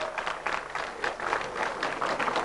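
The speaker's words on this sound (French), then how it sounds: "Et on l'applaudit très fort." Applause for a contestant at a 1998 Belgium versus DR Congo youth quiz show, a dense, steady roar of many hands clapping throughout, loud and fairly close, with a little crowd noise underneath.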